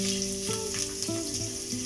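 A large onion frying in a pan with cumin, curry leaves and dried chillies for a pressure-cooker cabbage biryani, giving a steady close sizzle with no voices.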